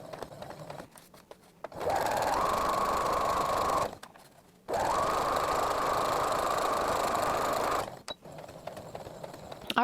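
A sewing machine stitches a seam on a face mask with a filter pouch and nose wire, in two steady runs of about two and three seconds separated by a short pause, close and clear with no talking.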